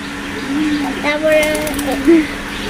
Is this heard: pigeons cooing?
yes